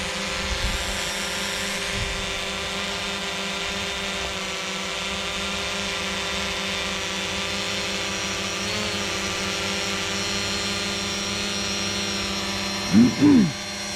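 A Fimi X8 SE drone lifts off and hovers, its steady high-pitched propeller whine and motor hum running close and continuous throughout, with a couple of brief bumps near the end.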